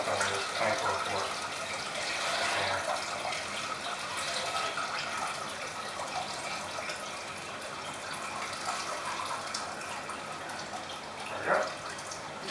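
Two and a half gallons of water pour into a 24-quart pot during a coffee IPA homebrew, a steady broad rushing gush lasting throughout, fairly close, with a brief louder splash near the end.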